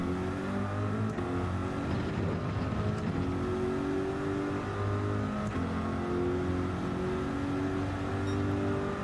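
Corvette in Gran Turismo 7 racing hard, engine revving and climbing through gears with repeated shifts, a continuous fairly quiet drone rising and falling in pitch, no talking.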